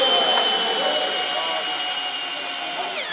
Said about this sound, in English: I can put it anywhere on the wood and just drive it.